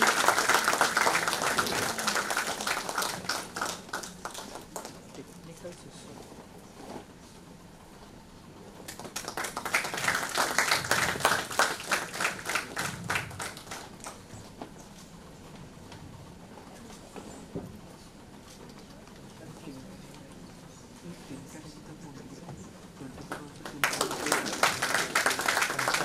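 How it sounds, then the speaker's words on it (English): Audience applause at the inauguration of an international academic conference, with bursts of clapping rising and fading in waves across the hall between quieter stretches, alongside some talk. "Can you have a big round of applause,"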